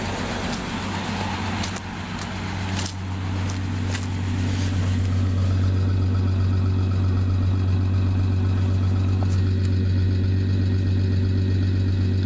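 A 1973 Plymouth Valiant engine idles steadily while warming up, a loud, close, low, even rumble that settles smoother after a few seconds, with a few faint clicks and no speech.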